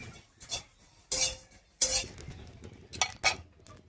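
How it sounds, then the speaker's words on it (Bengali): Spices frying in a kadai, heard as a series of sharp metallic scrapes and clinks of a spoon stirring against the pan, spaced irregularly over a faint background. "মশলাটা একটু সময় নিয়ে আস্তে আস্তে ভেজে নিতে হবে"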